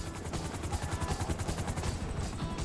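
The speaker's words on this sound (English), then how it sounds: "FIB choppers, pick me up!" FIB helicopters in Grand Theft Auto V thump with rapid rhythmic rotor beats, loud and close, with possible gunfire mixed into the busy game action.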